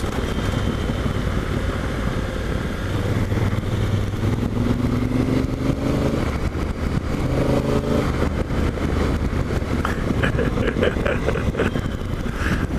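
Honda Africa Twin motorcycle engine running steadily outdoors, a low continuous drone with some rising revs, fairly quiet and rough-textured, with a voice talking over it.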